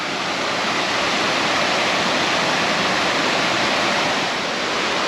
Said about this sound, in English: You can see water coming down a slab across the creek there too.